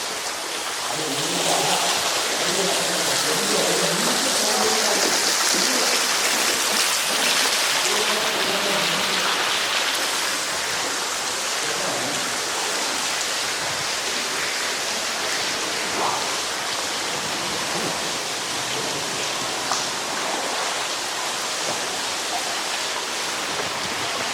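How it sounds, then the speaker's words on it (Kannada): Constant rushing roar of falling water from a waterfall, broad and steady, with faint indistinct voices in the background. "ನೀರು ಹೆಂಗೆ ಬೀಳ್ತಾ ಇದೆ"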